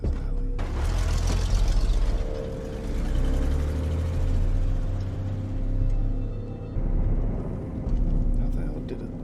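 A car approaching in The Last of Us, a low engine rumble and rolling road noise swelling and fading in the game's outdoor scene, with a person talking loudly over much of it.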